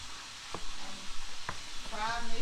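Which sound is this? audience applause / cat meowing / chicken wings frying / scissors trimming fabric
chicken wings frying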